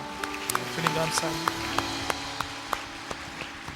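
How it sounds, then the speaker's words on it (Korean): A church congregation at a Sunday worship service claps in a slow, even rhythm, with sharp individual claps spaced regularly under voices speaking and singing. "우리 하나님께 감사의 박수 올려드립시다"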